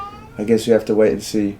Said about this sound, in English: Is that my cat? That is the cat.